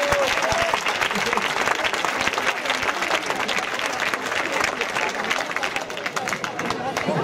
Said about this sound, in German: Großer Applaus.